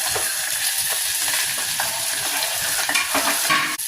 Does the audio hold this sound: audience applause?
no